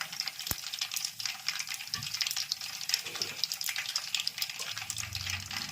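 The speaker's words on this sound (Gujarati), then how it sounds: "જો વઘાર થાય છે સિંગ તેલમાં." Gujarati tempering of spices crackles and hisses steadily in hot groundnut oil for a green Surati undhiyu, a close, continuous bright sizzle with scattered pops and no talk.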